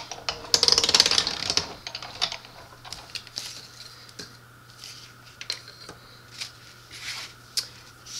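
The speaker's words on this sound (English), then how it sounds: "So I'm gonna put that in my machine, run it through." Paper fed through a die-cutting machine, a brief rough rustle and crank burst early on, then a steady low hum with scattered light clicks and taps.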